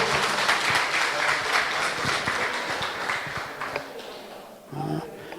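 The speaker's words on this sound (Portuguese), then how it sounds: "Vamos aplaudir o nome do Senhor?" Church congregation applauding during a Friday worship service, a dense wash of clapping from many hands that gradually fades over several seconds, with a brief swell near the end.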